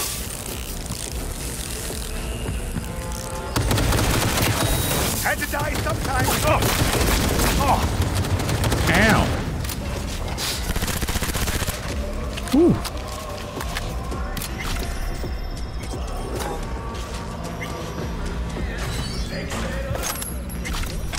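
Gunfire in the video game Cyberpunk 2077, with loud bursts of rapid shots from about 3.5 to 12 seconds, a sharp impact near 12.5 seconds, and quieter combat noise and voices around it.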